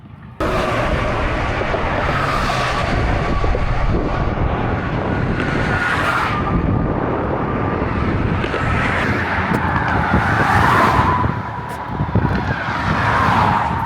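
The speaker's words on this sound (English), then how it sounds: "Here comes some more trucks." Trucks roar past on a Texas highway with a 65 mph limit, heard from the roadside as loud, broad whooshing passes that rise and fade in waves over continuous traffic and wind buffeting, with no talking.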